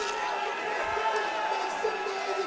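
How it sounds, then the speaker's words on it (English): A crowd at a cage fight roars as fighter Keegan Irish walks out, a dense, steady wash of cheering that stays constant under a commentator's talk. "Big reception from the crowd as Keegan Irish makes his way towards the cage"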